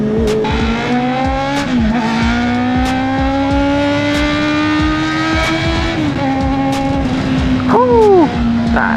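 A Honda CB650R middleweight motorcycle running close up with a strong steady engine note that rises and dips through revs, with a sharp throttle blip near the end.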